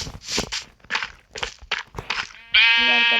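Several soft thuds of footsteps lead into a single drawn-out sheep bleat, loud and close, with a synthetic, game-like tone.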